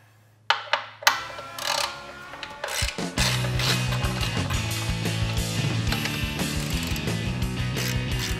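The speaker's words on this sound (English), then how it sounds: "first step, removing the skid plate." A ratchet wrench clicks repeatedly and rapidly at close range while a skid plate is taken off a motorcycle for an oil change, with clattering metal mixed in.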